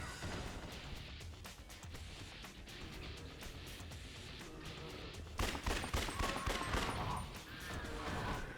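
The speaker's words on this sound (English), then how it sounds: "Gonna try to keep shooting zombies" Rapid gunfire from shooting zombies in Yakuza Dead Souls crackles steadily at moderate volume, growing denser and harsher in the final few seconds amid constant game clatter.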